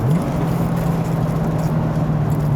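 A 1996 Corvette Grand Sport engine drones steadily and fairly loud from inside the moving car, its pitch rising briefly at the start before holding an even tone, as if settling after a downshift.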